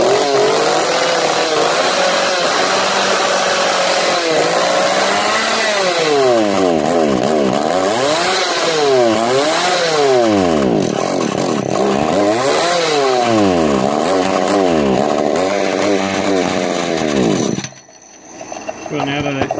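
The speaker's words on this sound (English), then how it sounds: "It's a good running saw, I'm telling you." A rebuilt Stihl 015 chainsaw engine runs close and loud, revving up and down in repeated swells before abruptly cutting out near the end; someone talks over it.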